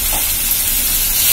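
Crushed garlic and a handful of washed avarampoo flowers sauté in a hot pan, giving a loud, steady close-up sizzle and hiss with faint stirring, and no talking.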